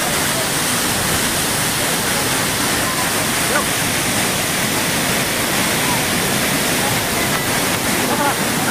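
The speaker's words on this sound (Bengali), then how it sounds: "ফোয়ারা পাহাড়ের গা বেয়ে জল ধাক্কা খেতে খেতে নিচে নেমে আসছে" Bamni Falls roars steadily as water cascades down the hillside, a loud, dense, unbroken rushing wash heard up close with no pauses.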